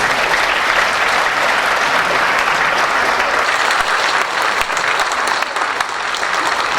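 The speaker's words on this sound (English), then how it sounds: "Again, round of applause for Chief Dave and his accomplishments." Sustained applause fills a room at a retirement luncheon for a deputy police chief, a dense, loud clapping from a seated crowd that carries on steadily before tapering slightly near the end.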